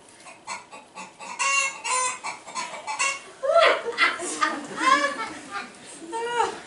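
Clucking and squawking that sound like a voice imitating a hen, close and fairly loud, in rhythmic bursts.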